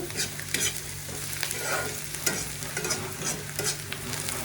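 Onions fry in a pan with a steady sizzle and hiss, while a spoon stirs and scrapes through them at a close, moderate level.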